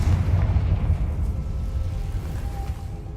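Blasting-spell explosion in the Hogwarts Legacy video game, a loud deep rumbling boom that rolls on and slowly fades over a few seconds.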